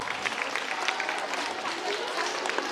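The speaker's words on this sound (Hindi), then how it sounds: "तालियां बजाते रहिए, बार-बार मुझे बोलना पड़ रहा है।" Audience clapping at a school annual function, a dense, steady patter of many hands close by, with a voice speaking over the applause.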